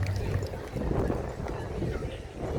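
Donkeys pulling show carriages at a carriage-driving show, hooves clip-clopping steadily in a soft continuous rhythm under an announcer's voice on a public address system.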